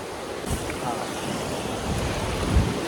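Ocean waves surge steadily onto Rushikonda beach in Vizag, a continuous wash of surf with wind noise buffeting the microphone and a slightly stronger wave near the end.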